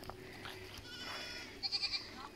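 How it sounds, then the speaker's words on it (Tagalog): Goats bleat on a farm in Ilocos Sur, a short run of several quick, wavering bleats near the end over faint outdoor ambience. "Oh, mga kambing. Daming kambing."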